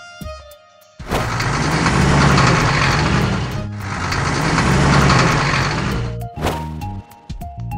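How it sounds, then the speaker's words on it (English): A cartoon garbage truck's engine revs loudly in two sustained bursts with a short break between them, framed by soft melodic music at the start and end. "Garbage truck."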